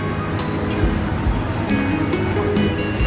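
An amphibious tour boat cruises on the water at the Gold Coast, a steady engine drone and rushing water wash with periodic splashes, continuous and fairly loud.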